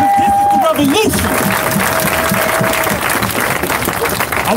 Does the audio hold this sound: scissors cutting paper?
no